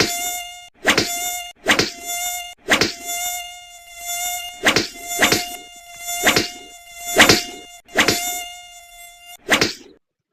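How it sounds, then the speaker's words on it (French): Mosquitoes buzzing in the Mosquitos Control video game: loud, close whining drones in repeated bursts of about a second, separated by short silences, with a sharp tick at each onset. "Et ils commencent à faire des ronds comme des vrais moustiques."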